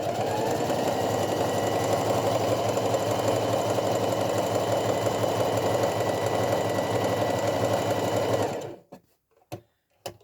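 A sewing machine stitches a fabric market bag, whirring in a steady, loud, continuous run for about eight seconds before it stops, followed by a few faint clicks and handling sounds.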